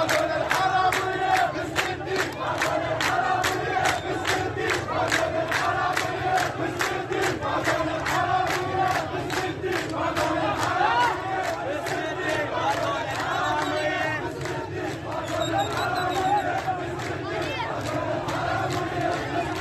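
Crowd of protesters in the Ahvaz uprising chanting slogans in rhythmic unison, a loud, dense mass of voices with regular pulsing beats that continues steadily throughout.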